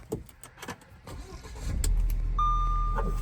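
A 2009 Audi A4 Quattro with a newly installed clutch throw-out bearing idles quietly, a low steady engine hum rising after a few clicks and holding evenly, with a faint tonal whine near the end.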